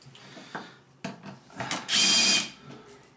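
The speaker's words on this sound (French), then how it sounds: "On prépositionne nos vis." Screws being prepositioned in the wooden boards of an Easy Jardin 500 worm composter: knocks and handling thuds, then a short, loud burst of a power screwdriver.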